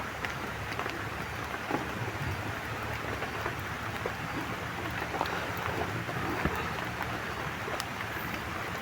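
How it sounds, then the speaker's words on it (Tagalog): Steady heavy rain pours down continuously, a dense hiss with faint scattered rumbles of thunder and no voices. "Medyo lumakas na naman yung ulan."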